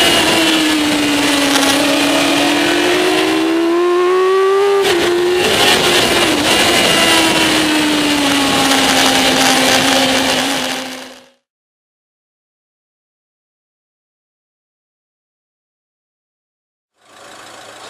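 Motorcycle ridden hard around the Aberdare Park road racing track, its engine loud and close with rising and falling revs as it brakes down through the gears, then cutting to silence before a brief return.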